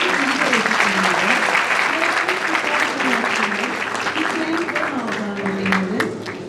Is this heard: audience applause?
yes